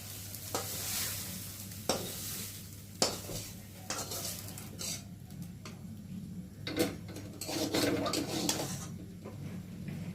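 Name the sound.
soybean chunks frying in oil with salt and turmeric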